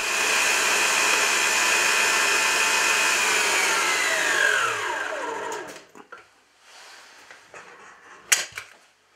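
A kitchen mixer runs loud and steady at full power, beating cake batter for a banana-chocolate buttercream cake, then spins down and stops partway through, followed by a few clattering knocks and handling sounds.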